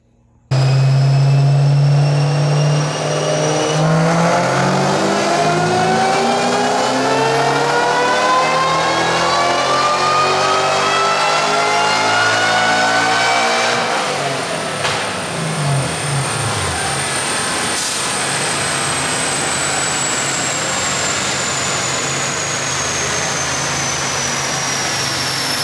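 Eaton-supercharged Mach 1 engine running on E85 with Holley EFI roars through a loud dyno pull on a test stand, revs climbing steadily with supercharger whine rising for about fifteen seconds before easing off to a sustained high drone.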